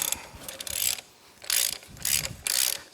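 A hand ratchet loosens the axle bolt on a Kawasaki KLX 110 dirt bike in four close, loud bursts of rapid clicking, each stroke separated by a brief pause, with no talk.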